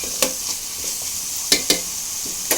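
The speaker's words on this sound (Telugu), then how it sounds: "ఇంకోసారి ఇలా కలుపుకోండి" Raw banana pieces fry for a curry in a pan, with a constant soft sizzle and several sharp spoon scrapes and knocks as the mixture is stirred, close and without talk.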